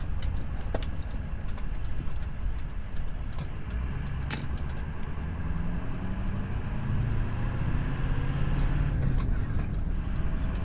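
A Ford F350 diesel pickup with a six-speed manual engine drones steadily from inside the cab, holding a low rumble with a few faint clicks and rattles over it, and no talking.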